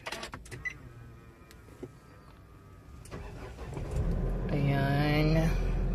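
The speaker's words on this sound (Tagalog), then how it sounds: "Then, i-start natin ang sasakyan." An automatic car's engine cranks and catches near the end, swelling into a loud, close rumble that settles into a steady idle after a few quieter clicks and cabin noises.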